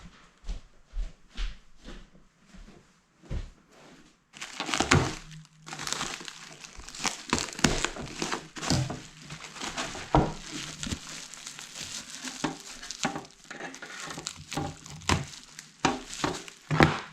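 Close crinkling and tearing of a ceiling light's sellotape-wrapped packaging, irregular crackles and rips that grow denser and louder after a few quieter handling sounds.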